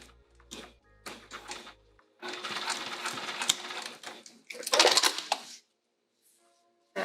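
A sewing machine stitches through a vinyl bag at a long stitch length, running in short bursts and then a longer steady run, fairly close and moderately loud, with pauses between.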